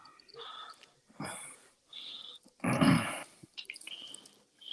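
A dog gives a few short whining and growling bursts close by, separated by brief pauses, with no one talking.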